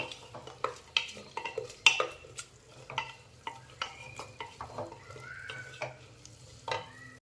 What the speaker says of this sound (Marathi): दोन ते तीन मिनटं चांगली तेलामध्ये ही परतून घ्यायची आहे आपल्याला